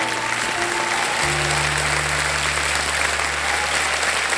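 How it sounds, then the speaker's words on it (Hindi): Loud, sustained studio audience applause on the set of the quiz show Kaun Banega Crorepati, a dense wall of clapping that runs steadily for several seconds with a low steady hum underneath. "हो गए, तालियां बज जाएंगे"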